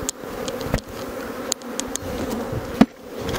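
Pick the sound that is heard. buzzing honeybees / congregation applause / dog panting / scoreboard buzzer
buzzing honeybees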